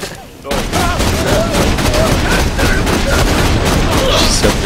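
Gunfire from a slow-firing weapon in the video game Borderlands 2, a loud dense barrage of shots and booms starting after a brief pause and continuing throughout, with a voice in the mix.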